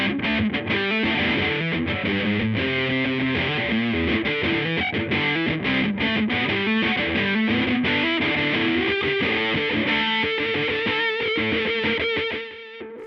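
An electric guitar with a JB pickup plays crunchy distorted rhythm through a pedalboard and amp. Chords and riffs ring loud and continuous for about twelve seconds, then fade out briefly at the end, with no talking.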